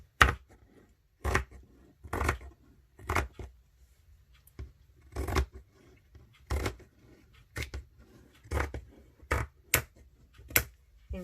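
Scissors snip through a single layer of fabric to make no-sew cloth wipes, about ten separate sharp cuts spaced at irregular intervals, close and fairly quiet with near silence between them.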